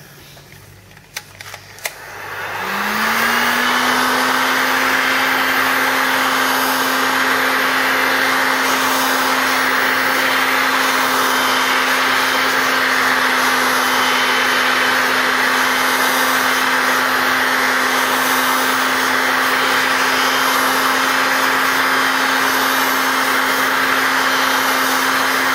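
Vacuum pump on a small vacuum forming machine starts up and runs steadily, a loud constant whir with a fixed pitched hum holding unchanged for over twenty seconds, no voices.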